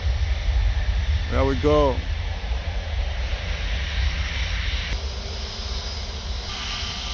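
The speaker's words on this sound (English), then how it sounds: "Getting momentum, speed increase, and aircraft it's gonna get airborne." Jet engine roar of a Wizz Air Airbus A321 accelerating down the runway on takeoff at Paris Orly Airport, a steady loud rumble throughout with a brief voice over it.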